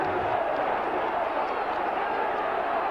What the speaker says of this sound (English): the Wigan crowd getting behind the side now